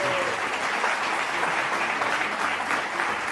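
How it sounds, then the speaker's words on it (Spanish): Steady, dense applause from a crowd at an awards ceremony fills the whole stretch, continuous and fairly loud with no voices rising above it. "que pasen dándole un fuerte aplauso."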